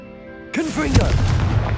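A Confringo fire-spell explosion from the Hogwarts Legacy video game. A short hum gives way to a sudden loud burst, followed by a crackling, rumbling magical impact with whooshing tails.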